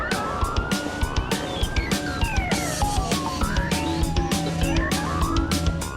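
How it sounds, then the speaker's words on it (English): Police car siren wailing loud and close on the streets of Tenby, its pitch sweeping up and down repeatedly while a rapid pulsing horn-like pattern runs underneath throughout. "even flashing lights and 130 decibel sirens are not enough warning for some motorists"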